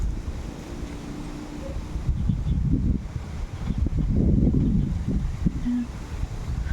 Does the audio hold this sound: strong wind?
yes